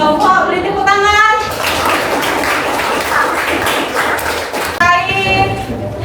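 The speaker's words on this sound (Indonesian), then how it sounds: "Beri tepuk tangan." Students in an Indonesian school classroom clap together for a presenting group, a dense burst of applause lasting a few seconds between stretches of a teacher talking at the start and end.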